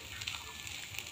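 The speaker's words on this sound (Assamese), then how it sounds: "ভাজি আছোঁ চাওক দুপৰীয়া ভোকত খাবৰ কাৰণে।" Potatoes, soybeans and chillies fry in a pan, giving a steady faint sizzle and crackle that runs without pause through the short moment, with no talking over it.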